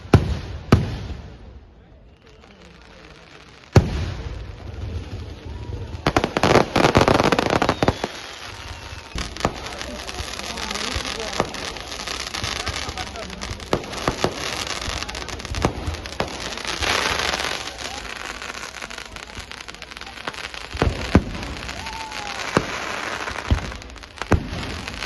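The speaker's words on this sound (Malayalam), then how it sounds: "തുടർന്ന് വർണ്ണ കാഴ്ചയൊരുക്കി മധൂർ വെടിക്കട്ടയിൽ വെടിക്കെട്ട് പ്രദർശനം നടന്നു." A fireworks display at the Madhur temple festival booms and crackles in a long series of sharp bursts, some isolated and loud, others in dense rattling volleys, echoing outdoors with a faint crowd murmur beneath.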